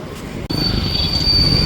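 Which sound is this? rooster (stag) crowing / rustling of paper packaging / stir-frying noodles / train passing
train passing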